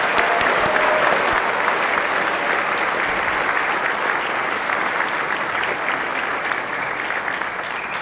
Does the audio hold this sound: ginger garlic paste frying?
no